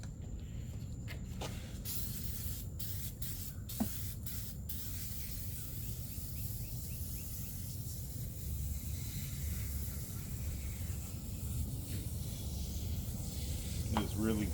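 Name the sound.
spraying oven cleaner from aerosol can onto engine bay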